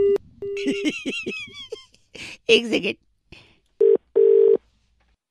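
Telephone tones after a call is cut off: two short steady beeps near the end, following speech with short tones mixed in, then silence.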